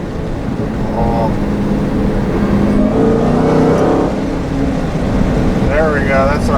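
A 2016 Dodge Challenger Hellcat with a supercharged 6.2-liter pushrod V8 and a six-speed manual drones loudly from inside the car, its engine note rising and falling under a faint supercharger whine, while someone talks over it.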